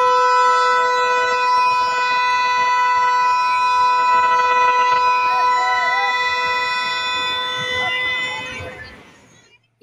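Ride train at a Lakshmi Puja fair in Bijni gives a steady, loud, horn-like tone held for about nine seconds over crowd murmur, fading out at the end.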